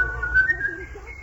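A man whistles a short, thin, wavering tune, close and clear over a faint low background hum.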